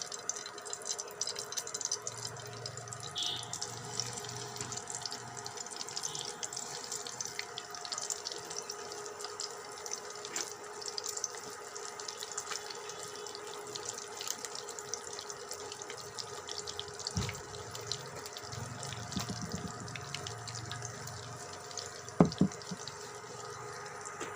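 Banana stem fritters fry in oil, giving a faint, steady hiss with scattered small crackles that runs evenly throughout, with no voices.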